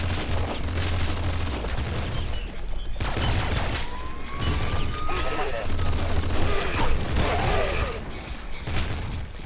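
A minigun fires in the Nuclear Throne video game, dense rapid bursts of game gunfire and impacts loud throughout, broken by short gaps, with game effects layered over the shooting.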